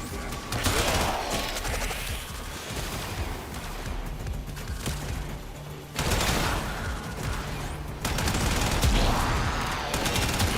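Heavy automatic gunfire in the sci-fi shooter Warframe, near and loud in continuous volleys with sharp cuts and renewed bursts over a background music layer.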